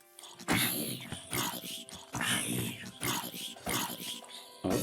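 A pig in the video game Minecraft oinks and grunts in repeated short snorting bursts, loud and close, mixed with other game sounds.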